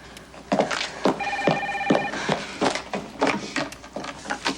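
A telephone rings in a TV drama scene, a bright electronic trill sounding in short bursts amid clunks and knocks of movement nearby.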